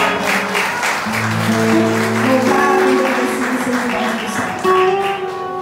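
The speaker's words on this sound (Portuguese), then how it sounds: "Você pode aplaudir ao Senhor por essa palavra" Church congregation applauding after a sermon reading, a steady wash of clapping with sustained sung or shouted voice tones rising over it.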